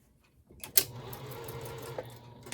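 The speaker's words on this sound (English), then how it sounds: "sew along that middle of that tie, back stitch, and go one more time" A sewing machine back-stitching a tie onto a bike basket bag starts up after a short silence and runs steadily with a sharp click near the start, a close and moderately loud whir with no talking.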